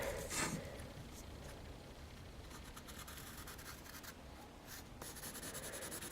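Pencil drawing lines on paper while sketching a Portal 2 turret, a faint, steady scratching of graphite strokes with a brief sharper rub at the start, close and alone without speech.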